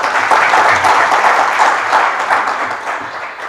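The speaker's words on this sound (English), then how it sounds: "can we clap for?" Audience at a university sports pre-games symposium breaks into sustained applause, a dense, steady wash of many hands clapping that holds loud throughout and eases slightly toward the end.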